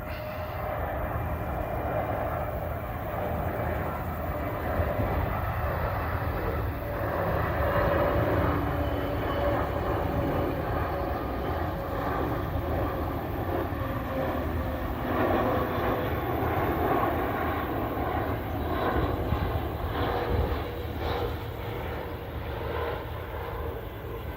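An EasyJet Airbus A320neo from Inverness lands on runway 08 right at London Gatwick, its engines a steady, broad roar heard at a distance throughout.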